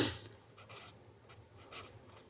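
A pen or marker writes on a surface in several short scratchy strokes, close and clear, with brief pauses between them.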